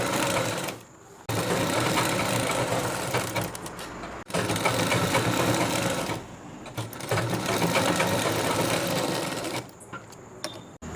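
Sewing machine stitching folded men's kurta fabric, a loud continuous mechanical whir running in long bursts broken by brief pauses, close up and alone.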